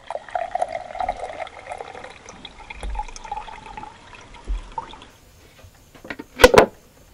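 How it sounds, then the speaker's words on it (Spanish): Water trickles and drips through a full clay water filter, a soft gurgling liquid sound with a few louder splashes near the end, heard close and alone. "Yo me gusta lleno porque así siento que gotea más con fuerza"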